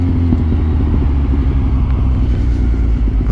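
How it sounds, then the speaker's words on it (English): A Kawasaki motorcycle rides through traffic, its engine producing a steady, loud, close rumble that continues without a break. "Oh yeah, I'm on a bike."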